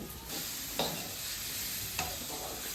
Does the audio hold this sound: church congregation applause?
no